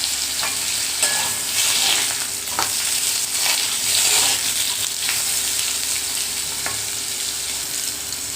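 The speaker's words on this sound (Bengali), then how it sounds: "ফোড়নের সাথে আলুটাকে নুন হলুদ দিয়ে প্রথমে ভেজে নিই।" Potatoes cut into long strips fry with salt, turmeric and whole spice tempering, giving a steady close sizzle broken by occasional stirring scrapes and clinks, with no talk.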